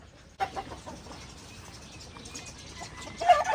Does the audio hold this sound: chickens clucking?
yes